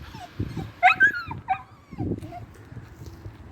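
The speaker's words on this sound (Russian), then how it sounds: "Ну, вот и маленький пес прибежал сюда на разведку." A small dog whimpers and gives a few high yips close by, in short uneven bursts amid low background noise and faint voices.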